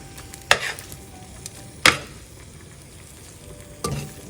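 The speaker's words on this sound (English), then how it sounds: "So I'm gonna put back all the vegetables and mix it here." Three sharp metallic scrapes of a utensil stirring vegetables for Korean japchae in a pan, spaced unevenly, over a steady low sizzle.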